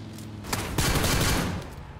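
AWM sniper rifle firing in the video game PUBG Lite: a nearby sharp crack followed by a heavy, booming shot that rolls off over a second or so.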